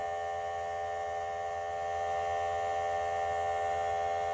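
An ANCEL S2000 EVAP smoke machine runs steadily during an automotive vacuum leak test, giving a constant electrical hum with a fixed tone, close and unbroken, with no talking.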